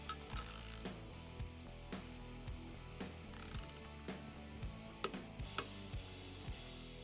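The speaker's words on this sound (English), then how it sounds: "let's put the MTR wrench back on our baseline joint" An MTR wrench ratchets steadily while tightening a bolted joint on a baseline test setup, giving repeated mechanical clicks over a low running hum with a few sharper clacks near the end.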